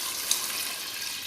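Water is poured into a pan while making South Indian upma, giving a steady, close, hissing splash that runs evenly for a little over a second with no talking.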